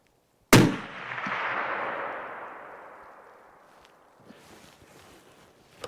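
A single loud hunting rifle shot at a steel target cracks sharply, then a long, broad rumble of echo fades slowly across several seconds, with faint rustling afterward and no talking.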